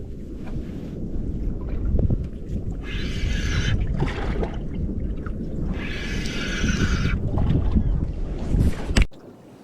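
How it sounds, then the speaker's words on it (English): Wind gusts over a small fishing boat on the water off the NSW South Coast, with steady low buffeting and rushing, a few bursts of higher hiss, and a sharp knock before it cuts off. "It's hard to know what this wind's going to do."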